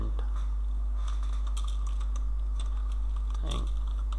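Steady computer keyboard typing while code is written for an ASP.NET MVC quiz application, a quick continuous run of close key clicks over a constant low hum.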